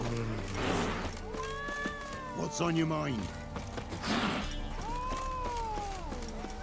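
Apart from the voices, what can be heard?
cats meowing in the video game The Witcher 3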